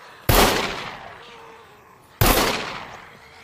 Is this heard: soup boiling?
no